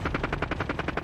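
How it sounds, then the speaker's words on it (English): Rapid automatic gunfire aimed at a Jeep in Call of Duty Warzone, about a dozen evenly spaced shots in a single quick burst, moderately close and alone without talk. "there's a guy behind me firing at the Jeep"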